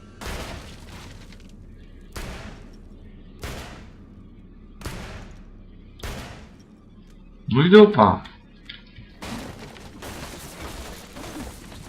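Gunshots ring out in the horror video game SAW, about eight evenly spaced, sharp reports roughly every 1.4 seconds, fairly loud and echoing, with a man's brief spoken outburst between them.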